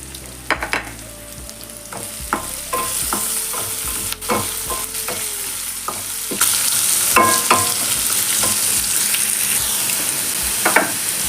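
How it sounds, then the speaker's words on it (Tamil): Onion and coconut fry in a pan for mint chutney, giving a continuous sizzle with frequent sharp utensil knocks and scrapes. A faint tonal hum runs beneath the sizzle in the middle stretch, and the frying grows louder toward the end. "வெங்காயம் வதங்கிடுச்சு"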